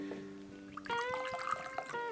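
Coffee liqueur is poured into shot glasses, a short close liquid trickle and gurgle rising after a brief tonal lead-in.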